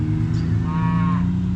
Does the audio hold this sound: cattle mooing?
yes